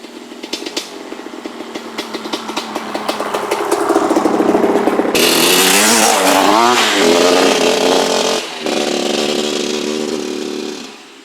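A 1982 Suzuki RM250 two-stroke dirt bike engine, with retarded timing, sputters at first, then runs up into a loud, raspy revving with rising and falling pitch, close by, before dipping briefly and settling back.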